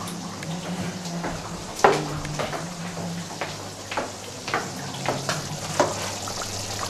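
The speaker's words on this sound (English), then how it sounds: "So the sauce is now boiling." Pureed sauce for roast goose bubbles and sizzles in a pan at a steady simmer, with a low kitchen hum beneath and occasional clinks and knocks of utensils against the pan.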